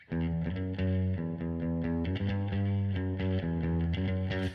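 Electric guitar with reverb and a grungy, distorted tone, playing sustained chords and notes that ring out continuously and loudly, each attack blooming into a lingering wash.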